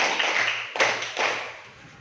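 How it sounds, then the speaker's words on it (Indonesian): A group claps together on a spoken count during a group exercise at a training session, with a few distinct clap bursts landing close by over a steady background. "Tepuk 1, tepuk 2, tepuk 3. Tepuk 4."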